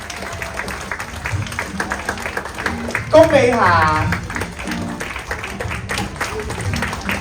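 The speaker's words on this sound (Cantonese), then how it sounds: "繼續掌聲" Audience at a Tuen Mun community arts showcase clapping under a voice reading names over a microphone, the applause modest and scattered, with a brief louder vocal burst midway.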